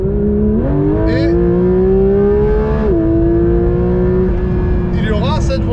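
A Porsche GT3 RS engine revs loudly and close, its pitch climbing and dropping back several times in sustained, droning surges.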